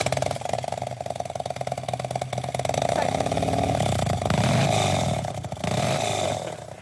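Motorcycle engines revving hard at a motorcycle festival, a loud, sustained rasping roar with rising and falling throttle bursts, crowd chatter beneath.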